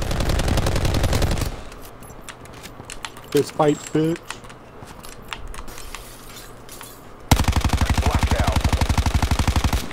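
Rapid bursts of automatic gunfire from the video game Black Ops 4 Blackout open and close the clip, with a quieter stretch of talking in between.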